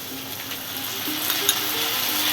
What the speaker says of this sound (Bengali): এবার দেব জিরে গুঁড়ো, ধনে গুঁড়ো, হিং জল দেব।